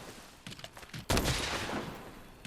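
Light bowgun firing spread ammo 2 in Monster Hunter World, a quick burst of overlapping scattered shots at close range, with a louder cluster of blasts midway followed by a sustained rumbling decay.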